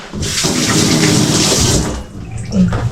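Running water from a tap splashes steadily while food found in a dumpster is washed, a loud continuous gush for about two seconds before it eases off, with a brief voice near the end.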